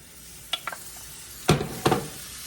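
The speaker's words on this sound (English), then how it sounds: "I'm going to put in 2 cups of chopped up ham." Two cups of chopped ham, some of it still a little frozen, dropped into a pot for ham pot pie and stirred, giving a few short clinks and then two louder scraping, sizzling stirs close by, with no talking.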